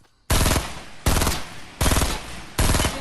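Automatic gunfire in the Fortnite video game comes in four loud, sharp bursts with short gaps between them, close and dominant with no talk over it.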